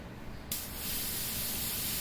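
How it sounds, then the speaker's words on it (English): Airbrush test spray of Terran khaki model paint: a sudden steady, close hiss of compressed air and atomised paint that starts abruptly and runs on evenly, with no talking. "So we got our Terran khaki loaded in the airbrush."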